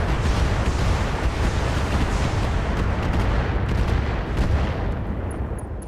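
Heavy mech weapons fire pounding an Orion mech in the video game Battletech, a loud, dense, continuous roar of blasts and rumbling impacts that fades slightly at the end.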